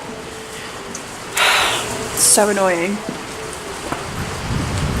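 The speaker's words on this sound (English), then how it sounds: "I don't know if you can hear it. It's proper raining." Heavy rain pours steadily outdoors at a horse yard, making a constant hiss. A person speaks briefly over it, and a short snort-like burst sounds nearby.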